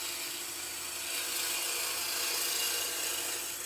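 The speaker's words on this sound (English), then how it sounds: "So I'm just going to do a little skew cut with a bowl gouge" A bowl gouge makes a skew cut across the top surface of a wood-lathe turning piece. It gives a steady, even scraping hiss with no breaks for nearly four seconds, close up and without speech.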